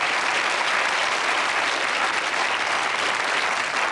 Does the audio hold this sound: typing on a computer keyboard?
no